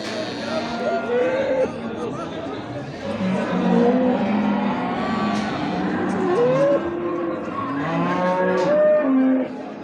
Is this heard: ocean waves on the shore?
no